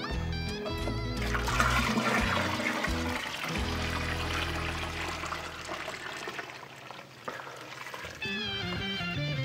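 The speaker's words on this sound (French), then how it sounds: "On peut prendre notre reste de mou et le verser à l'intérieur." Leftover wort poured into an electric brew-in-a-bag kettle while making a cream ale, heard as a steady rushing, gurgling stream of liquid close by that fades to a trickle before other sounds return.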